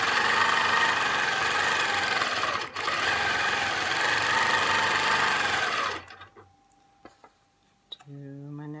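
A longarm quilting machine stitches clamshell curves guided by a ruler, its loud steady motor hum and needle vibration running for about six seconds before cutting out, leaving quiet handling noises and a short tonal beep near the end.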